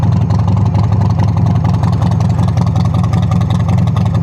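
Chopper motorcycle engine idling with the choke out, a loud, steady, rapidly pulsing low rumble throughout.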